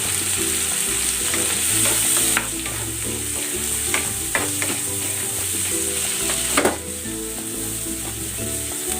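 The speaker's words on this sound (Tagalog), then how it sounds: "Luluto muna ako ng side dish. Ayan, mixed vegetables. Season natin ito ng konting asin at ng paminta." Mixed vegetables seasoned with salt and pepper fry in a pan, giving a loud, continuous sizzle broken by the scrape and clatter of a utensil stirring them now and then.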